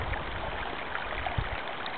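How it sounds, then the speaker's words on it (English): A small stream flows from a spring where water seeps up from under the dirt, making a faint, steady trickle and babble with no talking. "Here is the stream"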